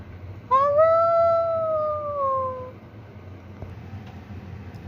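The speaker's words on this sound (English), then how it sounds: "he'd hear the howl of a beagle deep in the woods" A beagle's howl in the woods: one long, tonal, slightly falling howl of about two seconds, fairly close and clear over a low background hum, then fading.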